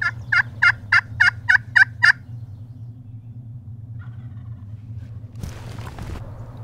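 Seven rapid, rattling wild turkey gobbles from a tom ring out over the first two seconds at moderate distance, followed by quiet outdoor ambience and a brief rustle near the end.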